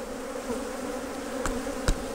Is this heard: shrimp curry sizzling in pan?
no